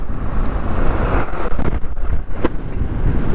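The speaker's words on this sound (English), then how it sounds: "Too windy" Strong wind blows across the Moreh Plains in Ladakh, a loud, rough buffeting rush with uneven gusts hitting the microphone and a faint vehicle rumble beneath.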